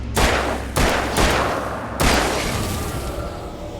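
Four loud gunshots ring out in the Alan Wake video game on Xbox 360, spaced roughly half a second to a second apart, each with a long reverberant tail.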